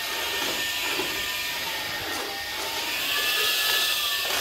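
A vacuum cleaner runs steadily and loudly nearby, a continuous airy roar with a high whining tone that shifts slightly in pitch.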